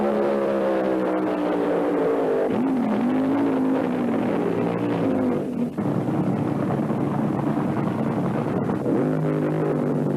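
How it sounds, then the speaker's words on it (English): Drag racing cars doing burnouts at the 1975 IHRA Pro Am Nationals in Rockingham, North Carolina: a loud, continuous engine roar with rising and falling revs that fills the whole stretch with no speech. "The burnouts are deafening."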